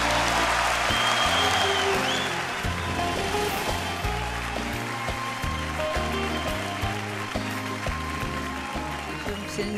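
A TV studio audience gives sustained applause for a Turkish musician, with dense clapping throughout and music playing alongside it.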